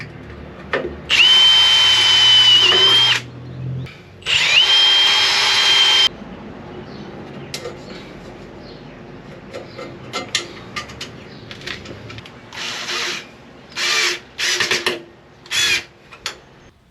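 A power drill whines into metal in two long, loud bursts with a rising pitch while fitting mud flaps, followed by shorter on-off drilling bursts and clanks of metal.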